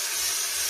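Steamer hissing steadily while an Akubra Adventurer fedora is worked and reshaped, a brief continuous broadband hiss at moderate level with no talk.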